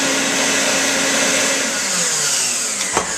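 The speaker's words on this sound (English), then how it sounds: "Give that a quick vacuum so I can see what's going on." A vacuum cleaner runs close by, clearing sanding dust off a guitar neck after fret sanding, with a steady loud whine that drops in pitch as it winds down and a brief knock near the end.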